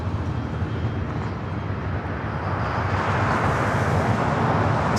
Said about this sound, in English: Delta 757-300 up next. Flight heading to Atlanta,